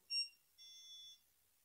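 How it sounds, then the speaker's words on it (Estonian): A ticket terminal's handheld scanner makes an electronic beep: a short high tone, then a longer one about a second later, clean and fairly quiet against silence. "Üks lühike piikse roheline tuli."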